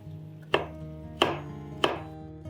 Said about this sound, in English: let's cut the tender coconut into pieces. When I mean pieces, I mean thick batons like so.